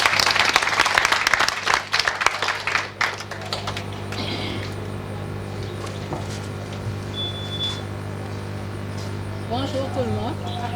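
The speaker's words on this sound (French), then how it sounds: "Des applaudissements pour elle." A closing-ceremony audience breaks into brisk applause that lasts about two seconds and then dies away. A low steady hum, faint voices and a few scattered sounds follow.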